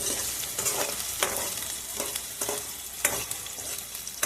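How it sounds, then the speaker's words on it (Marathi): Browned onion and green chillies fry in oil in a pan, a soft steady sizzle punctuated by regular spatula scrapes and stirs, close and fairly quiet with no voices. "कांदा थोडा लाल ब्राऊन झाला टाकू हिरवी मिरची"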